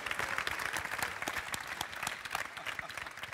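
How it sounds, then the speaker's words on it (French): An audience at a data and innovation conference claps steadily for a few seconds, a dense patter of many hands at moderate loudness. "vous pouvez vous applaudir vous-même"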